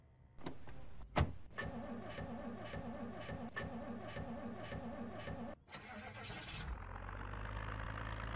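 A car engine starts in the zombie survival game Project Zomboid: a few clicks and a cranking whir lead into a steady mid-pitched running drone, which shifts and deepens near the end. Nobody speaks.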